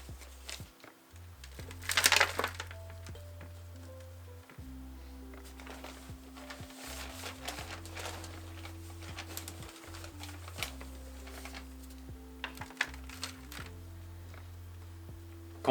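Cedar mulch poured and shuffled into a plant pot while potting Monstera standleyana, giving soft, dry rustling and crunching, loudest in a brief burst near the start, then quieter patter and scraping with low hum underneath.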